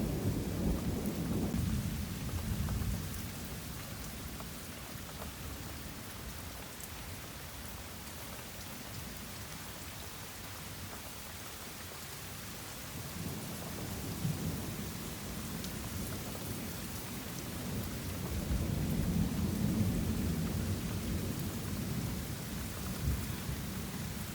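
Rolling thunder from a lightning storm rumbles over steady pouring rain, swelling at the start and again toward the end, long and continuous with no talking.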